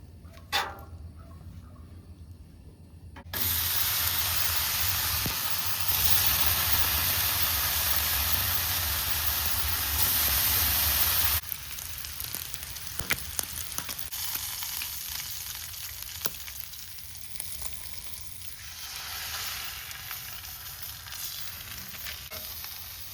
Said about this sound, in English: we're going to go ahead and season it with some coconut oil